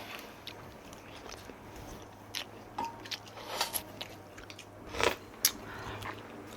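A person eats a home-cooked meal at a table, producing faint close chewing and small crunchy bites that come in soft, irregular clusters over a quiet room hum.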